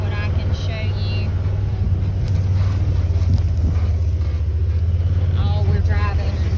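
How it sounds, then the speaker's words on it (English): Car driving across an overgrown rural property in Fargo, Georgia: steady low engine drone with wind buffeting the microphone, while a person talks over it throughout. "Oh, we're driving. No problem driving in here."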